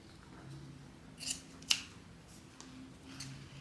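Fabric scissors snip through a sewing seam allowance with two sharp, close clicks of the blades, the second louder, over a quiet room hum.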